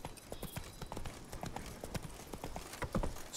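A horse gallops in The Witcher 3 video game, its hooves drumming a fast, continuous clip-clop rhythm that stays close and moderately loud.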